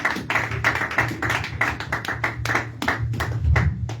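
Congregation at a French-language church service clapping in a steady rhythmic beat, a dense run of hand claps carried over a low instrumental drone.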